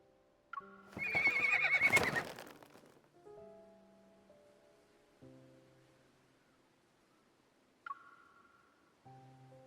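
A horse in the video game Love and Deepspace lets out a loud, clear whinny early on, set against soft music tones and a few faint chimes.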